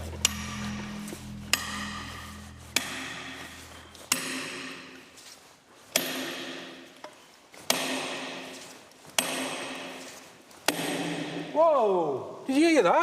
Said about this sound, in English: He's going to hammer them down to try and force the slate to fracture.